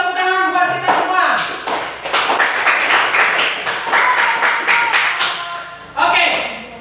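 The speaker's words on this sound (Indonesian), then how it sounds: "Untuk itu tepuk tangan buat kita semua." A classroom of students claps hands together, a burst of close, uneven slaps that swells into a dense patter for several seconds, then tapers off before a brief final flurry; voices mix in.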